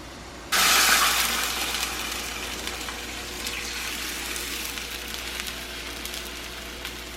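Belizean chimole, a black soup made with recado, boils in a pot. A loud rushing hiss starts abruptly, then settles into a steady bubbling wash.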